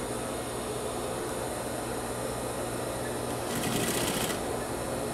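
A sewing machine stitches a collar onto a shirt, a steady continuous mechanical hum running throughout, growing slightly louder and busier near the end.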